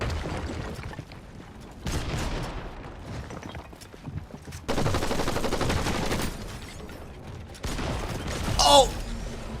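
SMG gunfire in a video game: repeated rapid bursts of automatic fire in separate volleys, moderately loud, with no talk over them.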